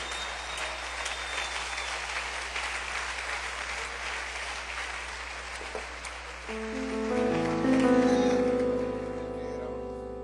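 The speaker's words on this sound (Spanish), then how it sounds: "Un aplauso al Rey bendito." Church audience applause at a worship service, a dense, sustained round of clapping that fills the room, then fades as a keyboard or organ chord enters and rings out beneath it.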